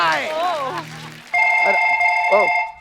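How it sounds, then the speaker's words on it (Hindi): A telephone rings on a comedy show stage, a steady electronic ring tone with a brief warble, loud and near, following a man's sung or spoken lines. "मेरे को फोन आ गए।"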